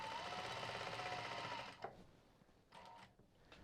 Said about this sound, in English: So I'm just going to sew, start here, forwards and back